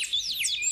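Cartoon birds chirp in quick, high, sweeping tweets that overlap briefly and clearly against a quiet background, with no talking.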